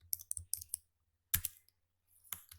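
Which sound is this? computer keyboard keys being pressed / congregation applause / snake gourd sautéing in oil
computer keyboard keys being pressed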